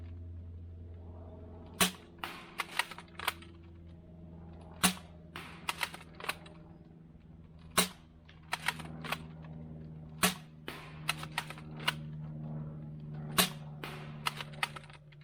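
Repeated sharp snapping pops from a T238 RGB Scar Tracer Unit dart blaster firing outdoors at a 60-foot target, a dozen or so separate shots spaced irregularly, some in quick pairs, over a low steady hum.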